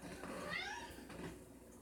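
A baby kitten meows once, a clear rising-and-falling cry, fairly close, over a soft indoor background.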